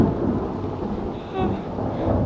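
Thunder rumbles low and heavy through steady rain outside an auto repair shop, a sustained roll that swells and fades with no voices over it.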